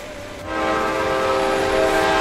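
A steady, sustained train horn blares with a rich harmonic tone, swelling in after a moment and holding loud to the end.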